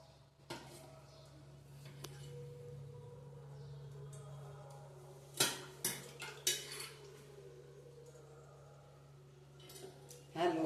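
A pan set on a lit gas stove and oil poured in, with soft metallic clinks and knocks of cookware over a low steady hum of the burner, a cluster of louder clatters midway and near the end, with a voice speaking.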